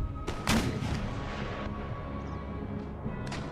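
Artillery fire in the Empire: Total War video game, with a sharp cannon boom near the start, then a dense din of distant gunfire and battle noise rolling on without speech.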